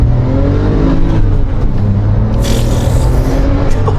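A manual 2007 Porsche 911 Turbo engine revs high in the RPMs, a loud, steady, close drone that holds for about four seconds with no talking over it.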